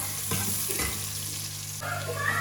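Onions browning in a frying pan give a steady, close sizzle with a few stirring scrapes and clatters, continuous from start to finish with no talking.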